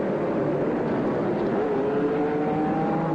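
Formula 1 race cars at the 1983 Detroit Grand Prix street circuit weave to warm their tires, their engines a steady, distant whine under crowd and broadcast noise.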